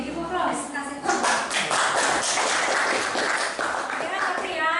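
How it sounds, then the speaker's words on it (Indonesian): A classroom of students claps together in a brief round of applause, a dense and fairly close rattle of hands with some voices mixed in. "Oke, give applause, kasih tepuk."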